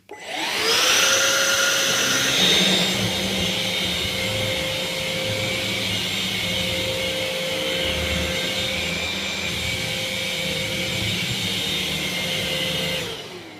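Vax Blade 32V cordless vacuum cleaner running with its brush bar on, a steady loud motor whine with a high-pitched hum and a lower brush roll rumble, holding constant for over ten seconds before switching off.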